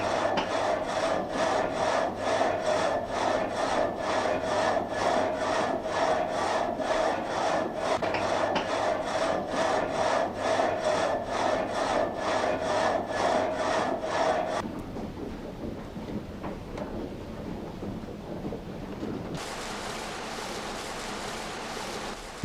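A historic water-powered sawmill cutting wood with a reciprocating blade, a loud rhythmic rasping stroke repeating steadily for several seconds, then stopping abruptly and leaving quieter mechanical rumble and clatter.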